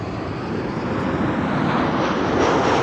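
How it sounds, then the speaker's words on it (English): A Transavia airliner arriving at Amsterdam Schiphol Airport from Salzburg gives a steady, broad jet roar that swells slightly louder toward the end, with no voices. "There's Transavia arriving from Salzburg."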